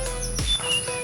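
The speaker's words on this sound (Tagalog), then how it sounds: "mga huni ng ibon" Birds by a riverside among many trees give a few quick chirps and short whistled calls, moderately near, over a faint insect-like hum.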